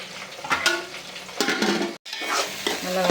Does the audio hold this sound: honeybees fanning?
no